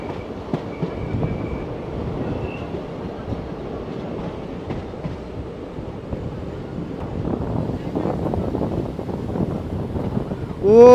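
A train crosses the Pamban rail bridge, heard from on board as a continuous rolling rumble with faint clatter and buffeting wind noise throughout, swelling slightly near the end.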